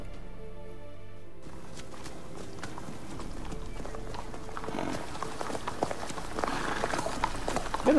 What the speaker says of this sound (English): that's a swift horse and just trotting off at a slow canter